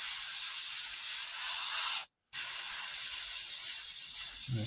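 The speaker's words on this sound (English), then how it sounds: "Actually, that's spraying very nicely, as I would expect." A spray gun test-spraying acrylic paint gives a steady, loud airy hiss that runs for about two seconds, cuts off briefly, then resumes just as strongly until the end.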